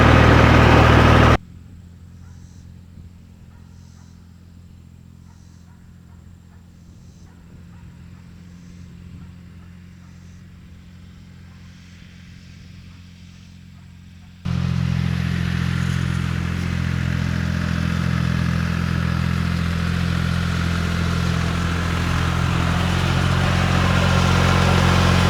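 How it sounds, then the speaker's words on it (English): A John Deere 820 diesel tractor that had not run in a while idles with a steady, close, throbbing rumble, then jumps to a louder, rougher running note about halfway through and holds it. "there really is something satisfying about getting a tractor going that hasn't run in a while"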